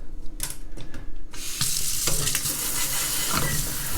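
Electronic circuit boards from a Pioneer SX-1250 amplifier are washed with warm water in a sink, with close clinks and handling sounds giving way to a steady, loud rush of running, splashing water.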